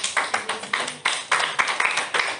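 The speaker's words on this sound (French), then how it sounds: "Est-ce qu'on peut l'applaudir?" A small audience claps for an invited guest at a French-speaking church gathering, a short burst of sparse, distinct handclaps in uneven rhythm, close and fairly loud, with no talking over it.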